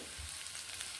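Vegetables frying in a pan as paneer curry is prepared, a continuous close sizzle with faint scraping as they are stirred, no voices.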